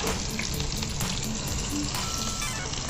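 Sugar frying in hot oil in an Odia home kitchen while cooking desi chicken jhola, a steady, dense, close sizzle that holds evenly throughout with no talking.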